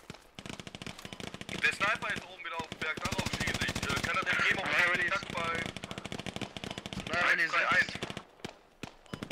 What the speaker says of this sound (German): Worauf schießt denn du?